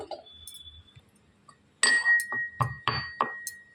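A lid is set onto a pot of boiling restaurant-style chicken soup, giving several sharp glassy clinks and taps in quick succession, close and fairly loud after a quiet opening.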